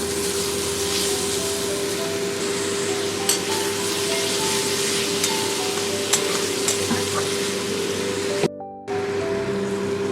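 Spring onion stalk vegetable stir-fry with tomato frying in a pan, a steady dense close-up sizzle with faint scrapes of stirring, briefly dropping out near the end before resuming.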